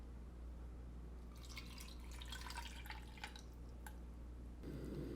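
Water trickles and splashes into a saucepan in short bursts while making garlic sauce, followed by a brief rush of pouring near the end, with faint background hum.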